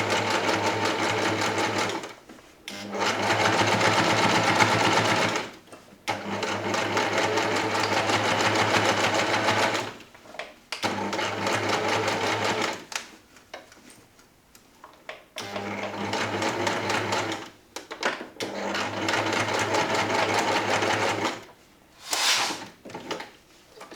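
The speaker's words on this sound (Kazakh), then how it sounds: "Сіздерге көріну үшін мен қара жіппен тігіп отырмын." Sewing machine stitching with black thread, a steady mechanical whir running in repeated bursts separated by short pauses, close and alone without talk.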